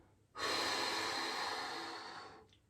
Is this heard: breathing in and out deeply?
yes